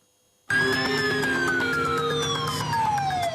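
A loud ambulance siren in Finland starts suddenly and wails continuously, its pitch slowly falling as it passes close by.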